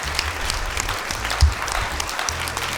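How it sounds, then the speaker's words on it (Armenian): An audience at a talent show audition applauding steadily, a dense, even clatter of clapping hands that continues throughout with no speech. "Եկեք բարձր ծափարենք էլի"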